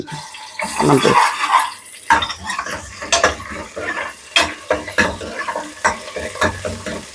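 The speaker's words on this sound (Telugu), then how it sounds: "దాని తర్వాత కొద్దిగా అల్లం పేస్ట్ వేస్తాను" Ginger paste hits a hot pan of cloves, cardamom and cinnamon for egg curry, giving a steady close sizzle broken by repeated scraping stirs and metal clinks of a spoon on the pan.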